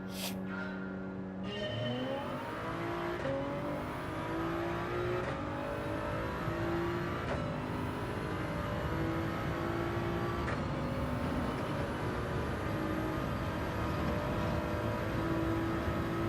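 Race car engines rev continuously in a Gran Turismo 7 daily race, with loud sustained engine drone and several upward gear-shift sweeps, including a Genesis car nearby, with no talking.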